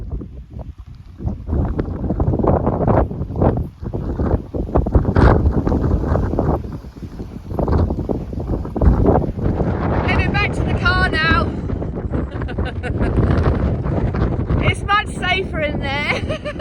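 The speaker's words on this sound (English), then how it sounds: "it's so windy" Strong, gusty wind buffets the microphone on a wet, windy hill walk up the South Downs, a continuous heavy roar across the whole stretch with brief vocal exclamations breaking through.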